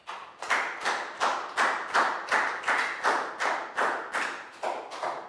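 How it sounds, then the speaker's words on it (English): A class claps in about eleven even, rhythmic bursts, close and fairly loud, like a chanted round of applause for a pupil in a primary school English lesson. "High five and a big round of applause for Prau."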